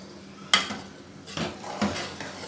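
A spoon clinks and scrapes against a pan while gently stirring cooked okra (bhindi) masala curry, with a sharp knock at the start followed by softer scraping strokes, close and alone.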